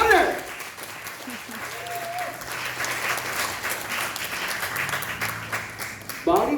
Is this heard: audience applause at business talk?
yes